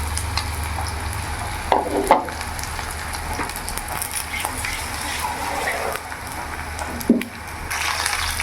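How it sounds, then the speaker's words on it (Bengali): Marinated chicken pieces sizzle in hot oil in a pan, a steady crackling fry broken by a couple of louder splutters as pieces are added or moved, with occasional voice nearby. "আমার তেল গরম হয়েছে, এর মধ্যে আমি এক এক করে চিকেনগুলো ছেড়ে দেবো।"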